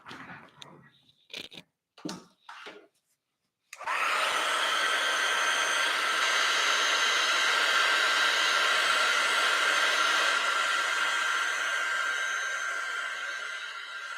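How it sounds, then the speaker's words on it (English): After a few brief handling knocks and taps, a hair dryer switches on to dry red watercolour paint on canvas, a strong steady whirring blast with a high whine that runs unbroken for about ten seconds. "let's grab the dryer. Get rid of that red on that brush, and I'll zoom out a little while I dry."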